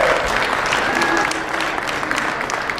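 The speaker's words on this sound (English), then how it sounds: "a round of applause for our volunteers." A fundraiser crowd at a comedy hypnosis show in Center, North Dakota, claps for the volunteers, a continuous, fairly loud burst of applause with a few faint whistles and voices mixed in.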